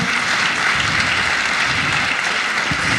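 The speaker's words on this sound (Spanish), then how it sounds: "Un aplauso para los que nos visitan hoy." A congregation at a church service applauds visitors in a steady, dense, loud wash of clapping that fills the room throughout.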